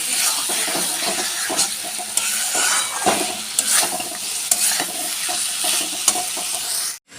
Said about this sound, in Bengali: পটলগুলো দিয়ে একটু সুন্দর করে নাড়িয়ে মশলার সঙ্গে কষে তারপর দেবো একটু জল।